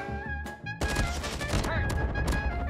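Rapid bursts of gunfire from Call of Duty Mobile crackle loudly and densely, a few shots followed by a sustained volley, with some game sounds mixed in.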